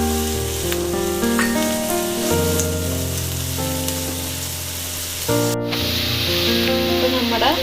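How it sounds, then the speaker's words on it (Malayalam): Onions fry in hot oil toward golden for kalathappam, giving a steady, close sizzle that runs the whole time under background music. "നമുക്കൊന്ന് ഗോൾഡൻ കളറാണ് വരെ ഉള്ളി ഒന്ന് മൂപ്പിച്ചെടുക്കാം."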